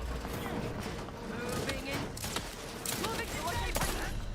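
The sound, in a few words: turret gunfire, The Outer Worlds 2 video game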